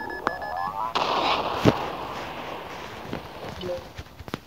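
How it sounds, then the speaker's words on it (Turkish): Rocket fire in a video game brings sharp bursts and booming explosions, one strong blast near the middle, followed by scattered smaller impacts and clicks at moderate loudness. "Abimiz roket atıyor, dikkat edin."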